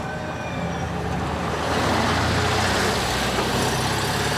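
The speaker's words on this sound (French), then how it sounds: "le numéro 207 qui part à son tour avec cette Porsche 356 C64" A Porsche 356 C moves off from the start of the Tour Auto 2003 classic car rally. Its engine is a loud, rough roar that swells as the car departs, with no talking over it.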